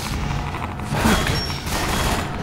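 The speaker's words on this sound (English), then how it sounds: "there's guys shooting" Enemy gunfire in the video game Minerva: Metastasis, a dense burst of muffled booming shots and thuds, loudest around the middle of a short, busy stretch, with no voices.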